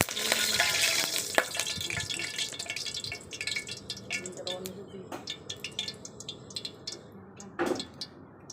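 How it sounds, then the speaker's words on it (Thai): Pork and vegetables stir-frying in a pan crackle and sizzle loudly, with scraping stirs and drips that gradually thin out, while someone talks over the cooking. "มาผัดหมูใส่ผักนะคะเพื่อนซี"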